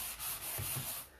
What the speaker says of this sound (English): I just call it really brushing with a sanding sponge.